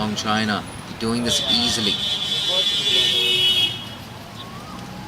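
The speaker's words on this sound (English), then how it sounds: "You can hear a lot of honking in the background" Car horns honk in the traffic around a Hong Kong cricket ground during a T20 international match, with one long sustained blare that rises over distant traffic while a commentator talks.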